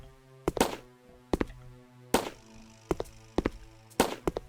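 Gunshots from an enemy in a Unity-built, Wolfenstein 3D-style first-person shooter: sharp, loud game shots in an irregular burst of about eight, ringing over a steady tonal hum.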